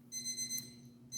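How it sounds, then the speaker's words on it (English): An electronic alarm goes off as a kitchen reminder. It plays a rapid, high pulsing beep pattern in two short bursts with a pause between them, faint against a low background hum. "My alarm to remind me to, because I have something in the oven going on as well"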